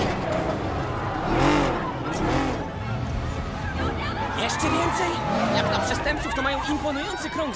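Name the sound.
car driving recklessly in the video game Marvel's Spider-Man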